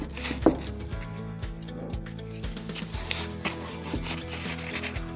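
Light hand sanding dulls a high-gloss furniture finish, giving a soft, steady rubbing with irregular scratchy strokes and a few small knocks, close and fairly quiet, with no voices.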